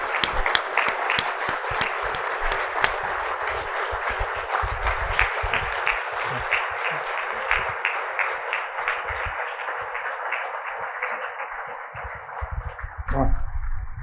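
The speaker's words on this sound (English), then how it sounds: "let's give him a big round of applause to this gentleman" A mortgage industry event audience gives a man sustained applause: dense, steady clapping for about twelve seconds before it thins out near the end.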